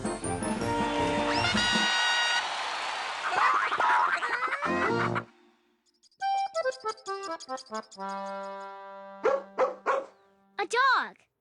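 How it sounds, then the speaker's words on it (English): A cartoon dog's barks and yips sound in short bursts in the second half, after a stretch of loud cartoon music and effects, with vocal-like tonal sounds around them. "A dog."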